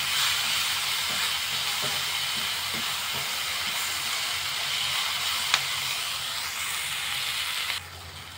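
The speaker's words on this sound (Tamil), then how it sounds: "தக்காளியெல்லாம் நல்லா வதங்கி வரட்டும்" Tomatoes sautéing in a pan for egg puff masala give off a steady, close, broadband sizzling hiss with faint stirring clicks, ending in a single sharp tap before the sizzle drops away; no one speaks.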